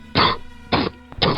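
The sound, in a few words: cough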